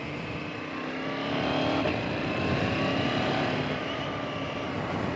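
A 2024 KTM Duke 990 motorcycle is ridden on a road, its engine droning under heavy wind rush and swelling slightly as it pulls harder partway through.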